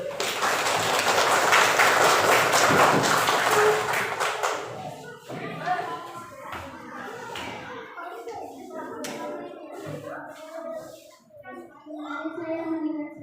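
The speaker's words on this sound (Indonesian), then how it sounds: "Tepuk tangan." A school class of children claps hands together in a dense burst for several seconds, then scattered taps, thumps and children's voices follow as the room settles.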